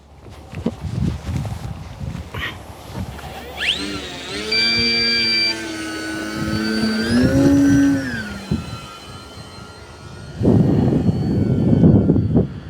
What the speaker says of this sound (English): Okay, so that was into the wind. Pretty easy takeoff there.